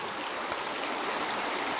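Shallow creek water at a bend near a camping spot in Broadwater runs with a low flow, giving a steady, even rushing hiss close by with no voices.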